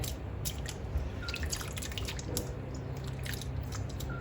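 Frozen bitter gourds being washed produce soft, irregular drips and small wet splashes, faint and close over a low background hum, with no talk.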